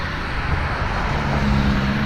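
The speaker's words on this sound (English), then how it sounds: "cities aren't loud, cars are loud." Dense, steady roar of city road traffic in Dallas fills the scene, a continuous wash of car engines and tire noise with a low engine drone rising toward the end.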